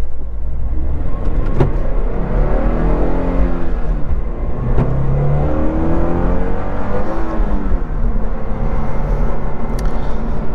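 Steady broadband road and engine rumble heard from inside a 2023 Subaru BRZ on Eibach lowering springs, driving in traffic; loud and continuous throughout with no talking.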